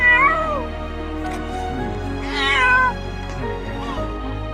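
A cat being rescued gives several rising and falling meows, close and fairly loud, over a steady low background hum.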